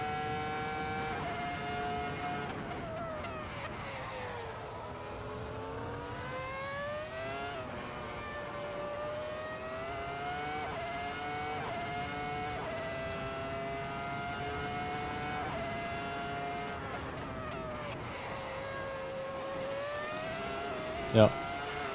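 Formula 1 car from the 2004 season on a fast lap in the Assetto Corsa racing game, with a steady high engine whine shifting pitch through gears and corners and a brief sharp knock near the end, under continuous commentary.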